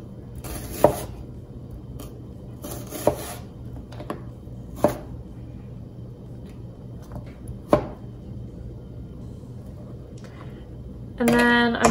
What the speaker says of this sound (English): And then I'm just gonna cut it into really thin